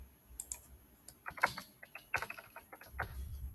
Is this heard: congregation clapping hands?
no